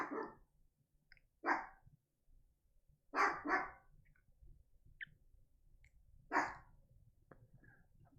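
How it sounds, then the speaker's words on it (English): A dog barks in short bursts of one or two loud, sharp yaps separated by pauses of a second or more, close by in an otherwise quiet room. "that would be my pup Gabs barking her head off at something."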